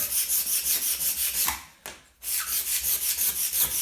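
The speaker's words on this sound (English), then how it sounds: "it's just taking off that top layer of varnish" Repeated back-and-forth sanding scrapes across a varnished floor strip the top layer in a steady rhythm, close and loud, with a brief pause midway before the strokes resume.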